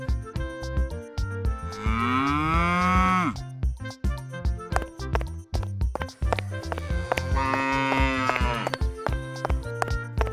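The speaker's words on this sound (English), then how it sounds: "Cow." A cow moos twice in long, loud, drawn-out calls, the first from about 1.5 to 3 seconds and the second near 7 to 8.5 seconds, over steady rhythmic thumping and clip-clop-like beats.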